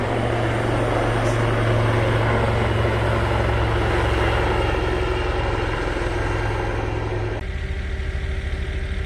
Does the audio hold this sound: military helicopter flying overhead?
yes